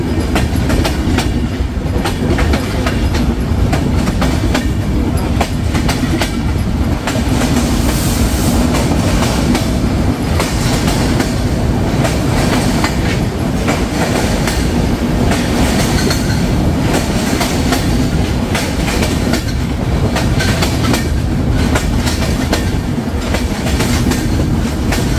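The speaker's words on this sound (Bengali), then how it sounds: "এই মুহূর্তে ট্রেনটি আব্দুলপুর থ্রুপাস যাচ্ছে।" Madhumati Express rolls through Abdulpur station in Bangladesh on its Dhaka to Rajshahi run, a loud, steady rumble of wheels and carriages with clattering rail joints that never lets up, and no voices.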